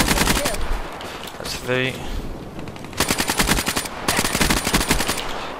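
The ICR rifle firing in a video game: several loud bursts of rapid automatic fire separated by quieter gaps, with someone speaking briefly between bursts.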